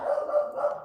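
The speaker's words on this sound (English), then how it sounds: "Oh, somebody's outside my door, that's why Murphy's barking" Dog barks indoors at someone outside the door, giving a quick run of three or four short, moderately loud barks heard close by.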